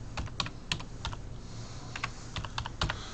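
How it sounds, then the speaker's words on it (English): Phone number typed on a computer keyboard: a run of quick, crisp key clicks in uneven bursts, close and fairly quiet against a low room hum, with no talking. "So now I'm typing in my phone number."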